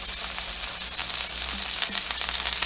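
A porterhouse steak sears in a hot pan with thyme, giving a steady, dense sizzle that stays close and even throughout, with faint crackles and no voices.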